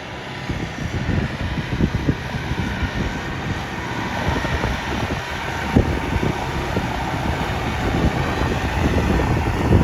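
Steady loud rumbling tractor engine drone pulling a cultivator in a field for pre-sowing cultivation, with broadband mechanical noise, continuous throughout, close by.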